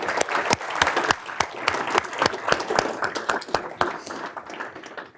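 A conference audience at a strategy summit gives a round of applause for the staff, close, loud clapping with distinct individual hand claps over a dense crowd wash, lasting about five seconds and tapering off.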